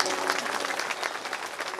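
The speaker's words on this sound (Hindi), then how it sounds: "ताली बजा दो।" An audience at a Shrimad Bhagavat Katha religious gathering claps together in a dense, continuous burst of applause, loud and close, lasting only a couple of seconds.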